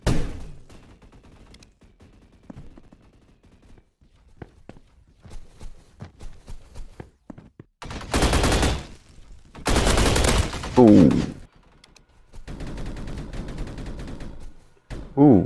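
Bursts of game gunfire crackle in Roblox Energy Assault, with scattered single shots and footsteps early on, then several dense, loud automatic volleys lasting a second or two each, and a player's voice speaking briefly between them.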